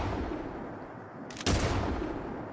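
A single gunshot fired in the Fallout 4 video game, using the M2045 Re Ver rifle mod. It cracks loudly and abruptly partway through, then leaves a broad, noisy decay. Nothing else in the clip is louder.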